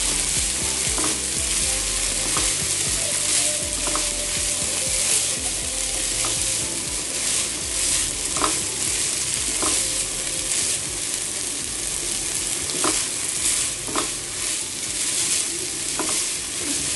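Beef boti kabab fries in a pan with a constant loud sizzle, punctuated by regular scraping clicks of a utensil stirring the meat, heard up close without speech.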